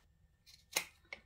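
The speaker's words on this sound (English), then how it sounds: "we can trim the zipper tab off now" Scissors trimming a zipper tab off a sewn fabric cosmetic pouch: a couple of quiet, crisp snips close by in a hushed room, the main cut followed by a smaller second one.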